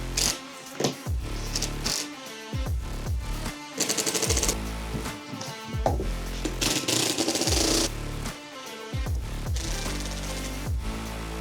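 An oscillating multi-tool cuts drywall during a home theater build, giving loud, harsh buzzing bursts of a second or two, separated by short pauses, close up with no talking.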